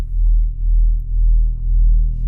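A Serum synth drum-and-bass bass built from two detuned sine waves pulses as a deep, steady low hum with a slow wobbling throb, loud and alone.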